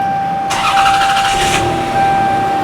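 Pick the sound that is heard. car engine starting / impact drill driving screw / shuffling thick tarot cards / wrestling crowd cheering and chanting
car engine starting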